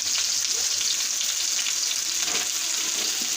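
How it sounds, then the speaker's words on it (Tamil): Onion and green chillies hit a hot pan for a dried anchovy thokku, producing a dense, loud, continuous hiss of frying with faint stirring movements underneath, near and unbroken, no voices. "வெங்காயம் பச்சை மிளகா போட்டிருக்கேன்"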